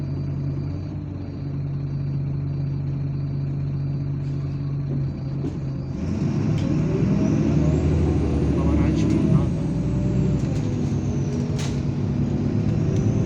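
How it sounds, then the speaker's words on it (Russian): Inside a MAZ-103 city bus driving through Minsk, a low engine drone and rumble fill the cabin and swell as it speeds up, with a passenger speaking briefly over the noise. "Сейчас сломается этот жодинский автобус."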